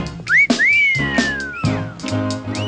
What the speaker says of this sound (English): Just having wolf whistles in a song is bad enough.